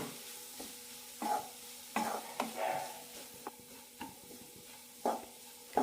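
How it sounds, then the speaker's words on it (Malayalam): Bitter gourd stir-fry is sautéed in coconut oil with a quiet background sizzle, punctuated by scattered metallic scrapes and clinks of a spoon against the pan. "മൂന്നാല് മിനിറ്റ് നന്നായി വഴറ്റിയെടുക്കണം"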